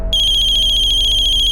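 A telephone rings for a ransom call, a loud, steady electronic ringtone warbling in a rapid pulsing pattern, close and alone after a moment of silence.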